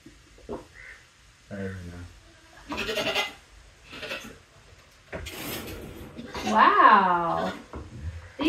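Goats on a farm, including a mother with her kids, give a few short bleats between stretches of close conversation, with one louder, wavering bleat near the end.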